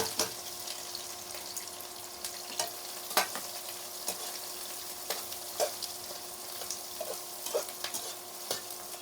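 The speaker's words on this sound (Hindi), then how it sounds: "प्याज भी हम अच्छे से फ्राई कर लेंगे।" Onions fry in oil with cumin seeds and garlic, giving a steady sizzle broken by scraping stirs and small spatters, close and moderately loud.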